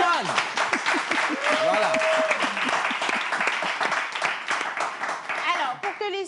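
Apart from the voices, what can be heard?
audience applause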